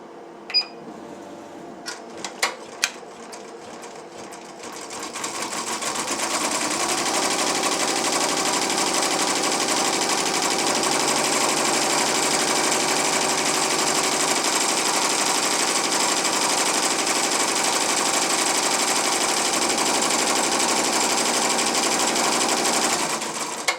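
An embroidery machine sews a placement stitch for cupcake fabric on an in-the-hoop pot holder, starting after a few clicks and thumps, then running with a steady, loud, rapid chatter for nearly twenty seconds, with no voices.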